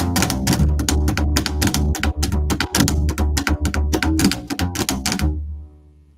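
Psychobilly slap bass played with a quick drag-roll ornament: a steady stream of sharp, percussive clicks over deep plucked notes, close and loud, stopping abruptly near the end with a fading low tail.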